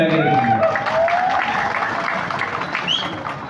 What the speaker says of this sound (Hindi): ताली मत मारो,